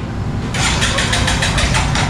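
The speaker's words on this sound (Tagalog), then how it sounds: "Starter lang natin guys para diretso na. Try natin, 1 hit." A Kawasaki CT125 motorcycle engine is cranked on its electric starter, a quick rhythmic churning of about a dozen pulses that starts half a second in, loud and close.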